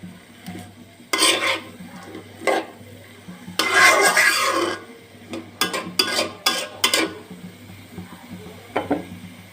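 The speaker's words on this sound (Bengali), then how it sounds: "এবার একটু নেড়ে দেব" Cabbage and potato curry stirred in a wok, a spatula scraping and tossing in repeated bursts with occasional clatters against the pan and a soft sizzle underneath, close and fairly loud, no voices.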